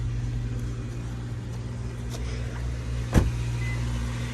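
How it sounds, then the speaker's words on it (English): A used car with 155,000 miles idles slightly high after warming up, a steady close engine hum with a constant low drone and one short sharp knock near the end. "So we are idled a little bit high, but that idle will drop down to below 1"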